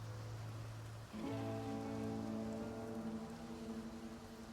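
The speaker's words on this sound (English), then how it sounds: "Oh, I do love rain." Steady rain falls in the video game Path of Exile 2, a dense continuous hiss throughout, with game music tones layered on top; no one speaks.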